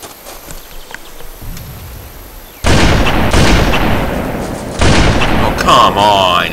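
Two loud grenade blasts go off in a Halo custom match, the first a sudden broadband boom with a long rumbling tail, the second a few seconds later, over quieter game ambience and with some talk faintly mixed in.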